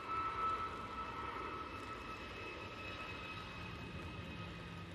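A Boeing 737 MAX 8 departing Manchester Airport, a steady, fairly faint distant jet engine rumble and hum with a thin tonal whine, continuous and without voices.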